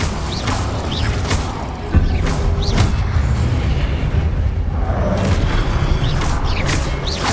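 The Incendio fire spell in Hogwarts Legacy gives a sudden loud whoomp of flame that flares into a sustained roaring rush, among other spell effects and short chirping accents.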